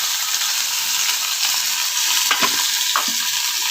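Pirandai stems frying with dried red chili and black pepper in sesame oil, a steady close sizzle throughout with a few soft stirring scrapes near the end, no voices.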